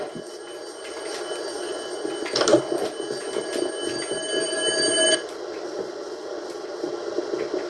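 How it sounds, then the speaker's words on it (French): A telephone rings inside the Minecraft From the Fog video game, producing a steady electronic trill over a low ambient hum. A brighter burst comes near the middle, and the ringing stops abruptly toward the end. "Ah, le téléphone sonne!"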